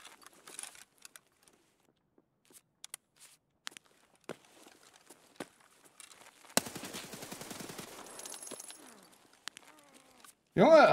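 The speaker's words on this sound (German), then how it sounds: "habe ich da gerade 20 Schuss auf eine Leiche geschossen?" A long burst of rapid automatic gunfire in Escape from Tarkov crackles for a couple of seconds, preceded by scattered single shots and faint clicks, with a loud noise at the end.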